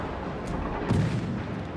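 Torpedo launch from a Clemson-class destroyer in the World of Warships naval game, heard as a dull low thump with a short burst of noise amid steady battle rumble.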